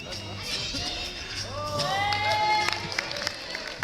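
Spectators at a departmental climbing championship applaud and cheer for a climber, with mixed crowd voices, rising whoops and whistles building toward the end.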